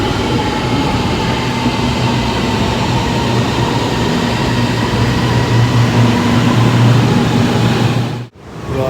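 A Dhaka metro train rumbles loudly and steadily into the platform, wheels clattering on the rails as it rolls in, with a faint whine near the end.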